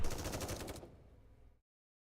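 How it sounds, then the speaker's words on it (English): A quick burst of rapid gunfire in Nikke: Goddess of Victory, several shots in fast succession, then a fading rumble that cuts to silence. "There are sounds of gunshots as Exia collapses."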